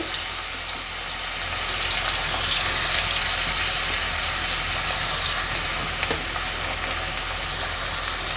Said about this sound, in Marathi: आता आपण कांदा घालूया फोडणीला